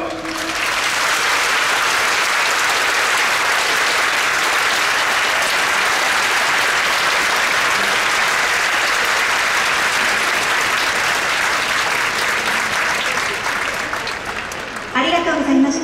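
Baseball fans in a stadium applaud a manager's resignation announcement at a season-ending ceremony, a loud sustained wash of clapping from a large crowd that fills the whole stretch, easing slightly before a voice comes in at the end.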